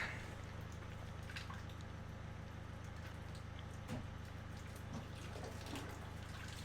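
Water draining out of a 2018 Vauxhall/Opel Astra K 1.6 CDTi: a faint, steady trickle and patter of liquid over a low background hum, with a few soft drips and knocks.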